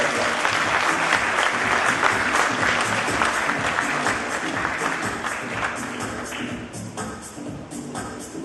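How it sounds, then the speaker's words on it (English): Conference audience applause at a PIRA convention forum, a dense, sustained round of clapping that holds strong for several seconds and gradually thins toward the end. "Let's give Ms. Petruska a big round of applause."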